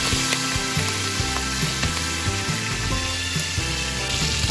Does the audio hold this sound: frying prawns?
yes